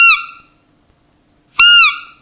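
Two loud, nasal squealing calls from a Buttolo roe deer caller imitating a young buck, separated by a pause of over a second; each call is short and harmonic-rich, with no talk.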